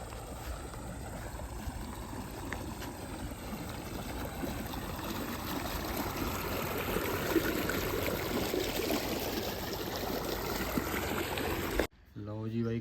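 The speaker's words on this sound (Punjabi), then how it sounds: "ਹਲੇ ਮੋਟਰ ਚਲਾਈ ਨੂੰ ਪਾਣੀ ਦੇਖੋ ਕਿਹੜੇ ਹਿਸਾਬ ਨਾਲ ਭੱਜਿਆ ਜਾ ਰਿਹਾ" Water gushes steadily from a pump motor outlet into a paddy field being puddled, a close, continuous rushing flow at even loudness that cuts off abruptly near the end as a voice briefly speaks.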